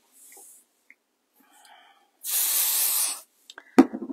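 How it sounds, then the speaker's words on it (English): A spray can hisses in one steady burst for about a second, amid quiet handling noises before and after. "put some spray on, and again, give that a good press with your hands"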